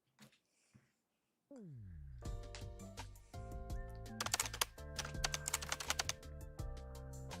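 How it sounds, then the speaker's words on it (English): Fast keyboard typing from the video game Hundred Line, a dense burst of clicky keystrokes set against game music with melodic tones. A short descending blip comes first, and the clicks stay close and prominent. "Rumi was typing furiously on a keyboard in the war room"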